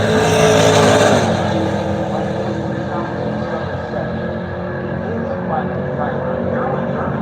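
A 1998 Pontiac Trans Am with a 408 cubic inch engine drag racing at the strip roars loudly and steadily at a distance, while an announcer talks over the engine noise.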